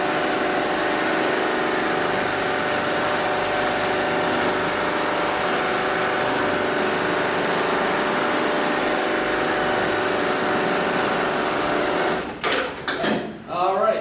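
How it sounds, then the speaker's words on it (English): A programmable leather sewing machine runs its pedal-started sewing cycle with a steady, loud motor whir for about twelve seconds, then stops with a few clicks and rattles as the cycle finishes. "I'm going to go ahead and tap the pedal on the left-hand side. That's going to initiate the sewing cycle."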